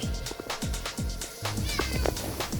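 A house cat meows repeatedly, about five or six short, close calls in uneven succession, some drawn out and wavering, heard alone without talk.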